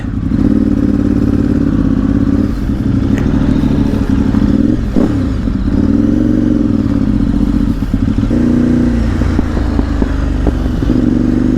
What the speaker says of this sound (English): first time riding a Ducati 848